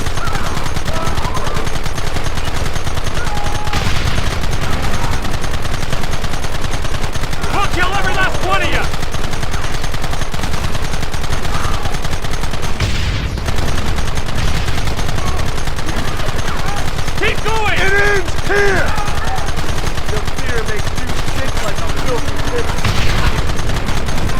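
Gunfire in a Western shootout in the Red Dead Redemption video game: dense, continuous rifle and pistol volleys at loud, steady level for the whole stretch, with shouting voices breaking through the battle.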